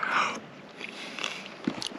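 A few close, crisp crunching bites and chewing sounds of undercooked Alfredo pasta at an outdoor campsite, quiet and brief, with no talking.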